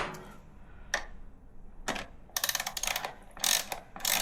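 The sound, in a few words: ratchet loosening bolts on Ducati Panigale V2 exhaust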